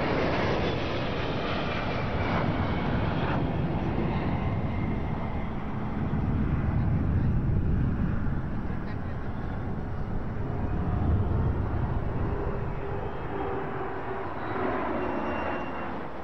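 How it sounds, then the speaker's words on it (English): Indian Air Force Sukhoi Su-30 jets fly over Rajpath during the Republic Day parade, a broad, powerful jet roar that swells and holds, heavy low rumble sustained across the whole stretch with no speech. "All thanks to these magnificent men and their flying machines."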